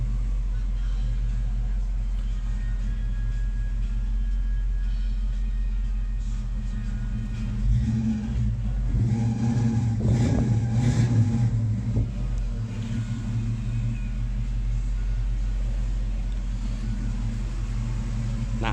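A 1979 International Scout II V8 idles with a low, steady rumble through two aftermarket mufflers, fairly quiet overall, then briefly revs louder in the middle before settling back to a smooth idle.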